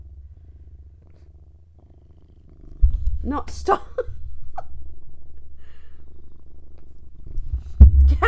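A house cat called Mr. Beans purrs close up, a low continuous rumble that swells louder partway through. A person briefly speaks over it.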